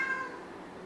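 A pet cat gives one short, fairly close meow at the very start, then low room noise follows.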